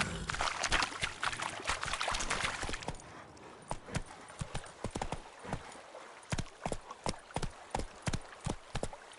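A galloping horse in The Witcher 3 pounds out quick, loud, evenly spaced hoofbeats close by. A brief rushing, splashing wash opens the passage before the rhythmic clopping takes over.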